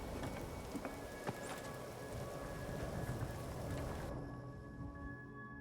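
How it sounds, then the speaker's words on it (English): Steady rain hiss in the video game Skyrim, a dense, even wash of falling drops with a few soft, brief taps, continuous throughout and cut to a quieter ambience near the end. "Why is it always raining?"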